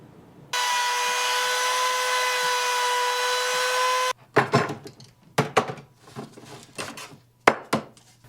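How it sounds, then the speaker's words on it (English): A wood router runs with a steady, high whine for about four seconds while cutting camper cabinet wood along a template, then shuts off, followed by a series of sharp wooden knocks and thunks. "then I'll put my template on there and router it out"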